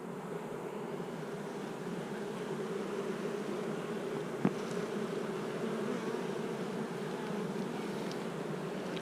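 Honeybees in an opened hive with solid brood in spring, a dense continuous buzzing drone at moderate level, close and steady, with one brief sharp click partway through and no voices.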